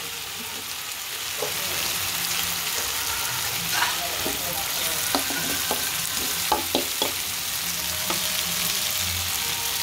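Rice and egg being stir-fried for vegetable fried rice, a steady close sizzle with scattered scraping clicks of a spatula against the pan and a faint background hum, no talking.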